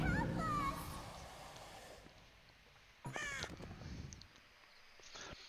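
Crows caw in the game Dark Parables: Ballad of Rapunzel, a few harsh calls rising out of a quiet ambience around the middle and again near the end, fairly faint overall.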